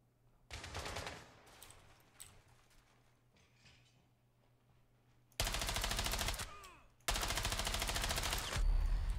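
Automatic gunfire in Rainbow Six Siege, loud rapid bursts of rattling shots: one early burst, then two long, sustained volleys near the end, separated by quieter stretches of faint movement.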